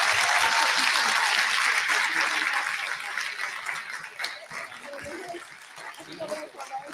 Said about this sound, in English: One more round of applause to all three of our panelists.